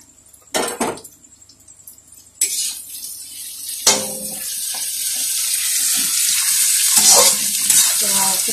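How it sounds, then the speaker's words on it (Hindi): Potatoes and beans tipped into a hot pan set off a sudden loud sizzle that settles into steady frying, with some stirring and clinks of utensils. "अब इसमें हम ये सारी सब्जियां डाल देंगे,"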